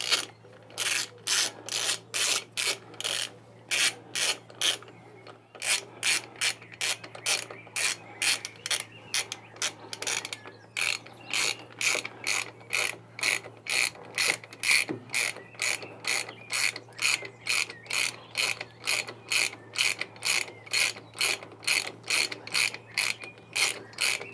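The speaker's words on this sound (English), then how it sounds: "I'm going to come back and torque it" Ratchet wrench clicking steadily as bolts on a David Brown 990 tractor's hydraulic lift cylinder cover are torqued, a close, loud run of rapid regular clicks in short bursts with brief pauses, over a low steady hum.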